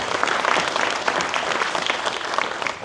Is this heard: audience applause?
yes